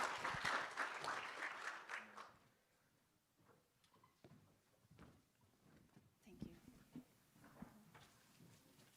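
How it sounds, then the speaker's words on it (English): An audience at an entrepreneurs' showcase event gives a warm round of clapping for about two seconds, then it fades and scattered footsteps and small handling noises follow. "Paula, let's encourage her with a warm round of applause"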